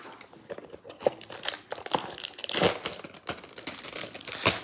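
A foil wrapper on a trading card pack is torn open and crinkled by hand, with close, irregular crackling bursts that build toward the end.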